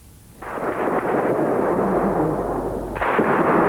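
Dense, continuous rumbling bursts of gunfire echo through central Tbilisi, Georgia, with a reverberant echo, loud and sustained, with a sharper surge near the end.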